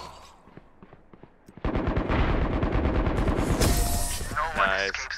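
Gunfire in the Valorant video game, a burst of rapid automatic shots after a few sparse single shots, loud and close, with game sound effects and voice lines mixed in.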